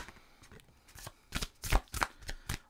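Oracle cards are shuffled close by in a quiet room: soft papery riffles and slaps come in short bursts, growing louder and quicker toward the end.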